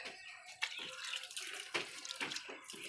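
Water splashing and running as something is rinsed clean in a household container, with irregular sloshing bursts and drips, fairly close and without any talking.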